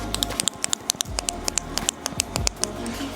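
A tint blade clicks repeatedly over debris embedded in the side window glass of a 2019 Acura MDX, sharp close ticks arriving in an irregular rhythm for a few seconds.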